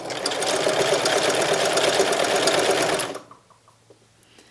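A sewing machine runs steadily for about three seconds, stitching a wide zigzag with the stitch width set to 7 across the appliquéd mouth of a stuffed bat pillow, then stops abruptly, leaving quiet room noise.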